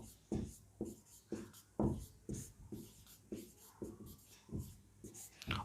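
During a Hindi-medium physics lecture, chalk writes on a board in a steady series of short, scratchy taps and strokes, fairly faint and close, with a voice speaking softly at times.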